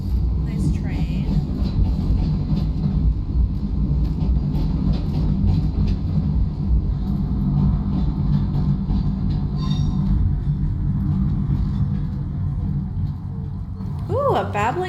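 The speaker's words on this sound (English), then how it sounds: "Nice train." A train rumbles past at length, a steady loud roar of rail cars with a brief wheel squeal near the end, heard outdoors on a walk while people talk over it.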